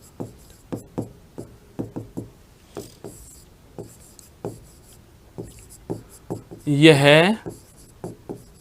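Hand-writing notes, with a steady series of short tapping and scratching strokes at an even pace, and someone speaking briefly over them.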